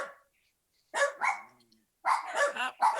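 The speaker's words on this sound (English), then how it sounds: "And my dogs are barking." Several dogs bark in short bursts indoors, close and fairly loud, in two clusters separated by a pause, with no one speaking over them.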